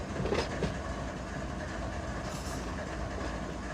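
Train wheels clatter over a misaligned switch in the Run 8 Train Simulator game, a steady rumbling roll with a few sharp clicks near the start, heard alone without speech.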